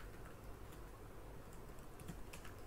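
Quiet, scattered keystrokes as a password is typed on a computer keyboard, light taps spread unevenly over a low background hum, with no talking.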